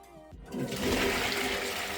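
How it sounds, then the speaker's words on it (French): Flush of a wall-hung rimless Japanese ceramic toilet: a sharp start, then a loud, steady rush of water swirling through the bowl, close and alone with no talking. "Je vous montre la chasse d'eau."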